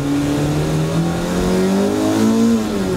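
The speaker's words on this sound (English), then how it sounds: "the car just spit a flame" Classic Mini Cooper with a B18 engine swap revving hard, a loud nearby engine note rising and falling in pitch over a few seconds; a distinct backfire pop is not evident.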